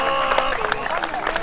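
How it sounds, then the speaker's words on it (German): Crowd applause for Ralf at a celebration of Türk Gücü Helmstedt's 2023 Bezirksliga championship, a dense spatter of claps with a steady speaking voice carrying over it. "Ein Applaus nochmal für Ralf."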